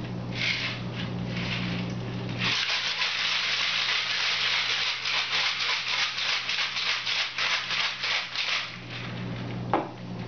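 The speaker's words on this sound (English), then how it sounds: "Now watch as I'll shake the ingredients for about 10 seconds." A rapid, steady rattling of ice shaken hard in a cocktail shaker, loud and continuous for several seconds, then stopping.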